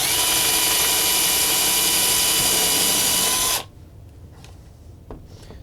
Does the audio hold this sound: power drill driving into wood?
yes